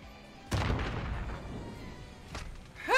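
Gunshot from a 1v1 Call of Duty Modern Warfare match: a sharp, close report followed by a decaying rumble, then a second fainter shot near the end.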